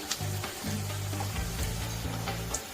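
Food fries in hot oil in a pan with a steady, close sizzle and soft crackle, with faint low hums running underneath.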